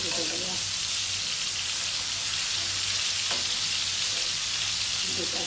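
Pangas fish frying in hot oil, a steady close sizzle and crackle running throughout with a few louder pops, occasional faint voices in the background.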